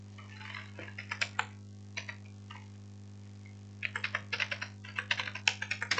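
Bursts of rapid keystrokes on a computer keyboard, close and clear, come in uneven clusters with short pauses between them over a steady low electrical hum. No one speaks.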